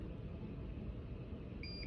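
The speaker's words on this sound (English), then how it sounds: "inject until you hear the beep" A faint hum from an epoc blood analyzer runs throughout, then a short electronic beep sounds near the end as a sample is injected, followed by a second brief beep.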